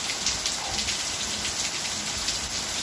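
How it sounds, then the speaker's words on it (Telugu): Heavy rain pours steadily in Hyderabad, a dense, continuous hiss of drops hitting surfaces with no gaps across the few seconds, loud and close, with no voices. "హైదరాబాద్ లో వర్షం, వర్షం భారీగా పడుతుంది"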